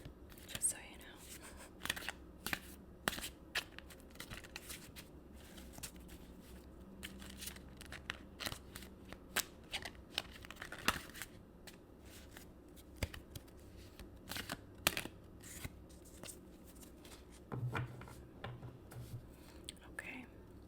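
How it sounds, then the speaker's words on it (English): Soft, crisp tarot card shuffling with quick riffles and taps, close and quiet, under gentle whispered talk throughout. "Okay, so I am going to shuffle the cards."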